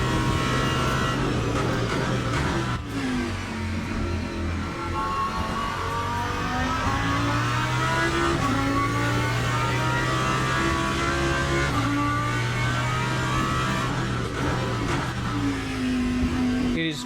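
Lamborghini GT3 race car engine in the Le Mans Ultimate sim racing game, a loud continuous drone rising and falling through gear changes as it accelerates and brakes, with occasional faint talk underneath.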